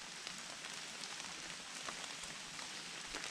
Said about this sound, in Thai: ฝนค่ะละอองฝน